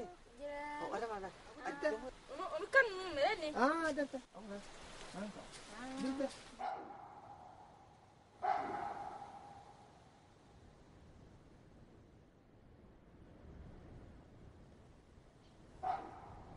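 Baboons on the high Ennedi plateaus of Chad give harsh dog-like barks and calls, a burst of varied yelps early on followed by isolated distant barks separated by quiet.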